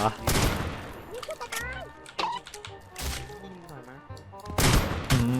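Bursts of gunfire in a Roblox shooting game ring out in sharp clusters, loud and close, with excited voices talking over them between volleys.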